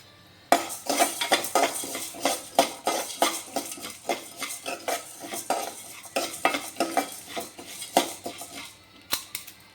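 Pepper, cumin, fennel, coriander and chana dal are dry roasted in a pan for traditional fish curry, giving rapid, rhythmic scraping and rattling of spices stirred with a spatula, close and fairly loud, without talking.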